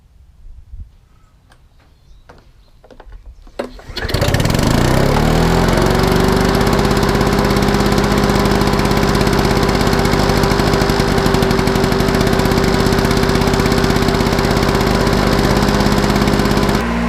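A Victa Powertorque 160 lawn mower engine starts after a few faint knocks and runs steadily at a loud, constant drone, close up and alone, with a throttle control that does little.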